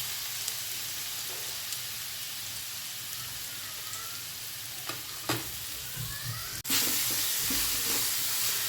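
Grated raw mango sautéing in ghee for a Maharashtrian kairi muramba, a steady soft sizzle with scattered stirring scrapes and a sharper clatter near the end, close by with no talk.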